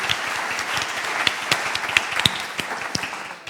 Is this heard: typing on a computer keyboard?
no